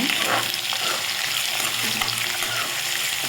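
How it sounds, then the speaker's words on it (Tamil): Onions sizzle loudly in oil with cumin for carrot rice, a dense, steady close frying hiss under faint scraping as they are stirred around the pan, with no one talking. "வெங்காயத்தை எடுத்து நல்லா வதக்கிக்கோங்க"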